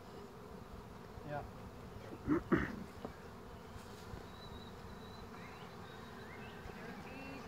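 Bees swarm around a Warré top-bar beehive being installed beneath tall oak trees outdoors, their soft, steady buzzing continuous throughout, with a few brief louder passes near the microphone and a single short spoken word.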